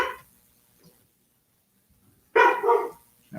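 A dog barks in a short burst of several loud, close yaps near the end, following a stretch of near silence with faint room sounds.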